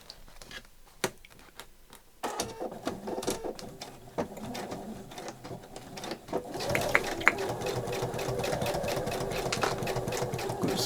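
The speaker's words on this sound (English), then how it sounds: "I'm probably just going to do it in an ordinary straight stitch" A vintage sewing machine runs a straight stitch through a paper journaling card, starting with a few short bursts and then settling into steady, fast mechanical whirring and ticking that grows louder and continues unbroken, close to the microphone.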